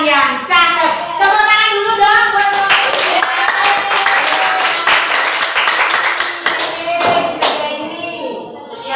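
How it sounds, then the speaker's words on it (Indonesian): Classmates clap for the presenting group in a classroom, a dense burst of hand claps and thumps spread across several seconds, with children's voices talking and calling out over the applause. "Tepuk tangan dulu dong buat kelompok 3."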